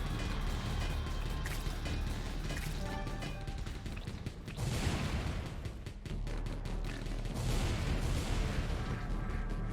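Enemies blow up in the game Wall World: crashing explosive bursts with mechanical clatter, a couple of heavier booms standing out from a steady noisy background, no voices.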